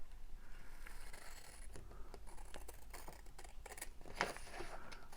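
Scissors cutting paper for a junk journal, quiet close snips and rustles over a low background hum, with a brief brighter scrape near the end.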